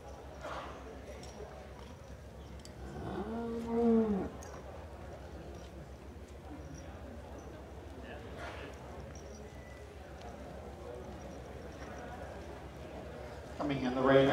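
Holstein senior two-year-old cows walk into a show ring at the Ontario Summer Holstein Show. Their faint hoof steps thud under steady announcer talk and a low crowd murmur.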